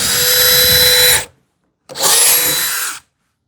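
A power drill bores a screw hole into wood during hand-tool woodworking on a TV unit, two loud sustained whirring runs of about a second each separated by a short silence, close and alone.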